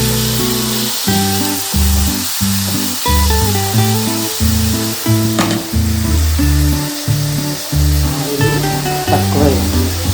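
Very large prawns sizzle steadily while frying in oil, a constant hissing spatter running beneath music, with a voice talking now and then.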